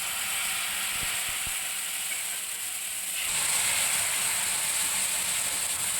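Water poured onto spices sizzling in a hot pan (kadai) while cooking Bengali ghugni, a steady loud hiss that swells midway, close and continuous without speech.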